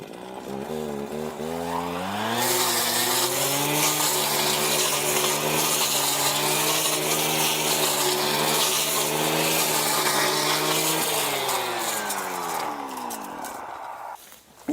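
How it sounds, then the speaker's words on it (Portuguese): Brush cutter with a sharp blade cutting African savanna grass, a loud close engine whine that rises, holds steady for about ten seconds with a rough cutting rasp, then winds down near the end. "Vamos mostrar com a roçadeira o que acontece."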